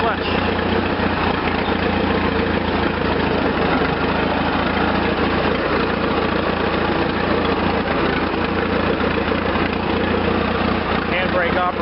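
A Farmall Regular tractor engine runs steadily while being put in reverse, a loud, continuous low chugging throughout, with someone talking over it.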